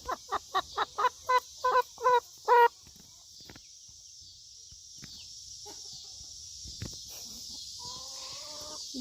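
Broody hens cluck close by in a quick series of about eight loud repeated calls, then quieter scattered clucks and rustling over a steady background hum.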